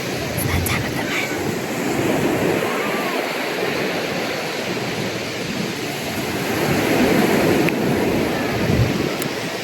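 Ocean waves wash steadily onto a beach, a loud continuous surf roar with gentle swells and some wind buffeting the microphone.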